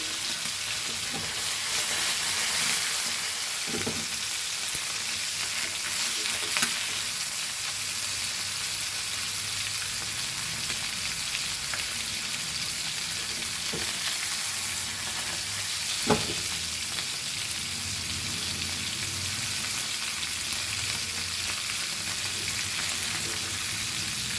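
Goan-style mandeli anchovies frying in a pan, a steady loud hiss of hot oil running throughout with a few faint clicks and taps of a utensil, close and continuous with no talking.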